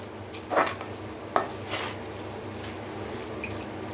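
Squid is stirred into masala in a pan: a few clattering scrapes and knocks of a utensil against the pan, with a faint sizzle in the background and no talk.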